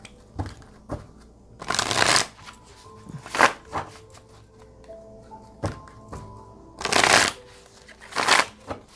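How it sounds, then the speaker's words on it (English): Tarot cards being shuffled and drawn, with several bursts of riffling and swishing cards separated by soft taps and thunks of the deck, close and clear with no talk. "let's pull 3 cards on this and let's see what it's about"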